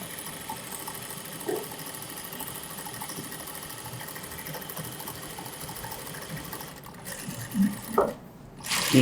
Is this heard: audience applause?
no